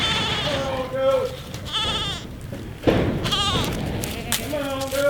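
Goats bleating repeatedly nearby, wavering cries mixed with a person calling out over a rumbling outdoor background.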